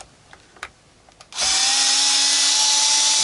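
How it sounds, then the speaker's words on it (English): A power driver kicks in after a few small taps and clicks, whining steadily and loudly at one pitch while backing out the neck screws of a Mexican-made Fender Telecaster. "I'm going to take all but one of these screws out"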